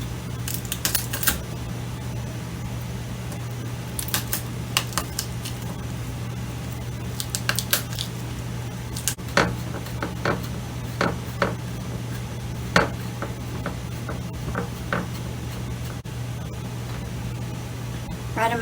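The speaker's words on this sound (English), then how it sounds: "I purchased this garlic from a friend of ours, and I'm going to get it peeled and start chopping it." Garlic cloves are peeled and chopped on a kitchen board, with scattered sharp knife taps and small crinkling peel sounds over a steady low appliance hum, close and fairly quiet.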